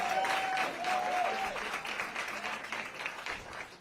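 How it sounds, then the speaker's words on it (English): An audience at a reproductive freedom rally in Tucson applauds election workers, producing a full, sustained wash of clapping from a large crowd that tapers slightly toward the end, with a faint voice underneath. "let's give those election workers a big round of applause for the work that they do"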